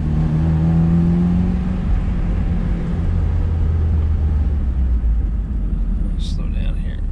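Stock 1979 Ford Mustang coupe with the 2.3L four-cylinder at full throttle, heard from inside the cabin as a loud, steady engine rumble and drone that holds for several seconds, with a faint rising whine early on.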